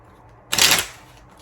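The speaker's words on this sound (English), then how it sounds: "I'm gonna cut the deck like this, shuffle one more time" A deck of playing cards shuffled once by hand, a short crisp riffling burst lasting under half a second, close and alone in a quiet room.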